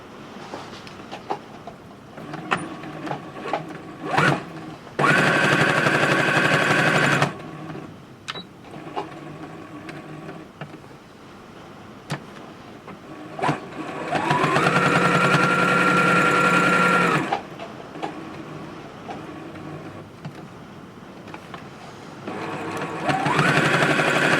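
A sewing machine stitches reusable makeup wipes in three loud, steady runs of fast whirring, separated by quieter handling clicks and fabric shuffling between bursts.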